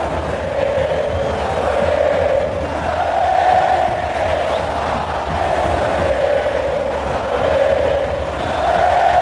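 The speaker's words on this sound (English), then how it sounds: "it is a delirious crowd here at the moment" A delirious rugby stadium crowd at an Argentina vs. France test match roars and cheers continuously in waves, a dense, sustained wall of voices swelling and easing.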